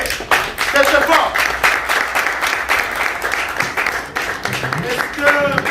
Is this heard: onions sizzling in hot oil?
no